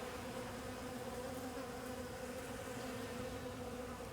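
Honey bees from an open beehive during a September inspection give a steady, dense buzzing drone that stays level and fairly close throughout, with no talk over it.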